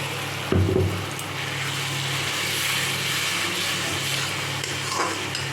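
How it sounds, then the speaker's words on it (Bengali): Spice paste for a red mutton curry sizzles and fries steadily in a pan, with a brief clatter of stirring near the start and a continuous close frying hiss throughout. "ভালো করে মশলাটা কষাই আর মিক্সি ধোয়া জল বাটি ধোয়া জলটা একটু দিয়ে দিলাম"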